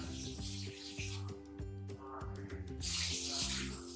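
Water is poured into a chicken karahi pan, a rushing, splashing pour that swells toward the end over soft background music.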